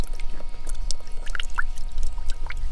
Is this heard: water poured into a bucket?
yes